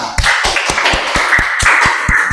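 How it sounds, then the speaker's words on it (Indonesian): A class claps for a student in a school lesson, loud, close claps in a quick, even, regular beat that fills the short stretch without talk. "Tepuk tangan buat Zahwa"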